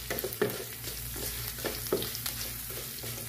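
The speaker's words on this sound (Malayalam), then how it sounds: "നന്നായിട്ട് വഴറ്റി കൊടുക്കാം. ഇതൊന്ന് മൂത്ത് വരുമ്പോഴത്തേക്ക് നമുക്ക് അല്പം കായപ്പൊടി കൂടി ചേർത്ത് കൊടുക്കണം." Garlic and curry leaves sauté in hot oil in a pan, a steady close sizzle broken by repeated scraping strokes of a stirring spoon, with no talking.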